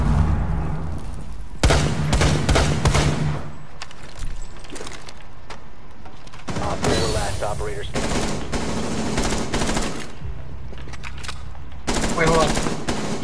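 Gunfire in the tactical shooter game Rainbow Six Siege, loud close bursts of rapid automatic fire broken by short pauses, with game ambience between the volleys.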